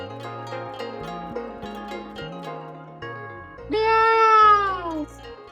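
A cat meows loudly and drawn-out near the end, over a dramatic music score that plays throughout.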